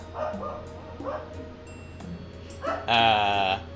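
A dog barks several times at close range, short sharp yips and barks spaced across the moment, ending in a longer loud whining bark.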